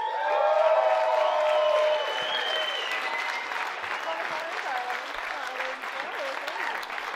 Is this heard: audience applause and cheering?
yes